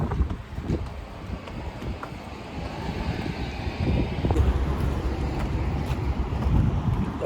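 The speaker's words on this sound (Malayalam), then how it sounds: "ഇതിനാണ് കൂടെ ചൂട് കാറ്റും, അല്ലെങ്കിൽ വെയിലിനെ കൂടെ ചൂട് കാറ്റും." Hot wind gusting around a small whirlwind outdoors, a rough continuous rushing that swells and buffets the microphone, growing stronger toward the end.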